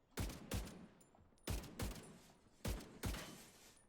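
Gunfire in the video game The Division 2, six sharp shots in pairs, close and punchy with brief echoing tails.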